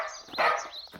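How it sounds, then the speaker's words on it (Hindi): A dog gives a single short, sharp bark from inside a car, quick and fairly loud, followed by a brief trailing yip. "अरे यह कोई कुत्ता भौंक रहा है।"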